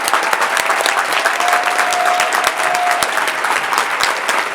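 Audience applause at a national council gathering of parents for transgender equality, a dense, steady wash of many hands clapping close and loud throughout, with a faint tone and a few whoops underneath.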